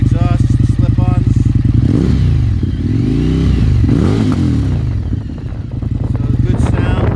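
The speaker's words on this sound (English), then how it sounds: "So once again, here's the QD exhaust, the slip-ons." An Indian FTR1200 motorcycle fitted with QD slip-on exhausts, catalytic converter still in place, idles with a loud, close, throbbing burble, then revs up and falls back twice before settling into a steady idle again.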